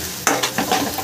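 Bombay duck (lote fish) frying dry in oil with no water added, stirred in a pan; a loud, steady sizzle broken by several sharp scraping stirs over one second.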